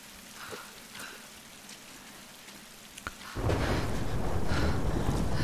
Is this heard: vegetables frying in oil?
no